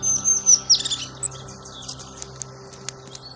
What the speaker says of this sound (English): But the star of the show, the one I love to see above all the others, is the crested tit